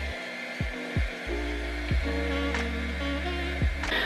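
Hair dryer drying curly hair, a steady close whirring blow that begins after a few short bursts and keeps running, with the pitch shifting as the airflow changes.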